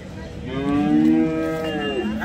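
A large cow at a cattle market gives a single long, loud moo, close by and clear with little else around it.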